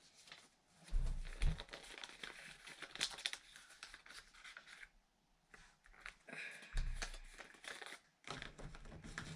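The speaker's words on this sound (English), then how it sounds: "you're just gonna wanna fold this in half" Paper is folded and creased by hand for origami claws, giving close, quiet crinkles and sharp scratchy creasing in short bursts with pauses between.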